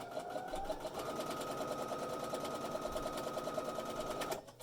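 A sewing machine stitches the tie of a homemade fabric face mask, giving a steady, close mechanical whirr that runs for about four seconds and then stops abruptly.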